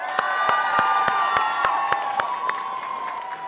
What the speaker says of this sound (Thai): ขอเสียงปรบมือดังครั้งกับทั้ง3โชว์ด้วยครับ